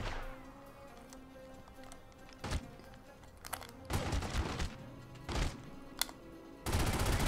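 Tommy gun bursts in The Godfather video game, several short loud volleys of automatic fire spread through the clip over a steady background hum, with a longer sustained burst at the end.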